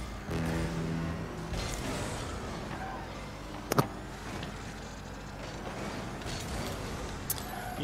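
Car engine whine in the Rocket League video game, a steady droning motor that shifts as the car drives forward and back, with a couple of brief sharp clicks standing out over the continuous hum.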